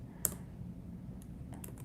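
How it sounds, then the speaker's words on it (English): Soft typing on a computer keyboard, a few scattered clicks with one sharper keystroke early on, heard close but quiet over a low background hum. "I'm typing it in the wrong place"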